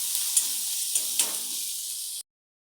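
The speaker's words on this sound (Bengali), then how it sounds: "পেঁয়াজটা একটু ভেজে নেব" Onions fry in a pan with a steady, bright, close hiss of sizzling and a few small pops, then the sound cuts off abruptly.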